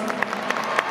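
Audience applause fills the hall at a men's free skating medal ceremony, a steady wash of dense clapping heard close and loud for about a second.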